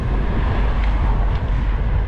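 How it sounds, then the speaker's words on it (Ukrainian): Strong wind buffets a microphone while cycling through the streets of Poltava, a continuous, roaring rush, loud and close, with no voices. "вітер в лице"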